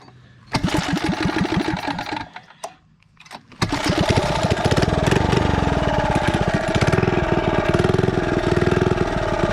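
A 79cc minibike engine fitted with a torque converter using zinc weights and white springs runs loud and close, a steady buzzing drone that briefly drops to near idle and then revs back up and holds high.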